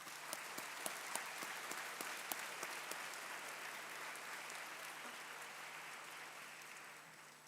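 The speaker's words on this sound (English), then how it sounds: "So I think everyone can give a big round of applause to ourselves." Graduating students at a degree convocation ceremony applaud together in a hall, a broad wash of clapping with a few sharper nearby claps, steady and gradually thinning toward the end.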